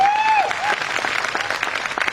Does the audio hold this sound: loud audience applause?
yes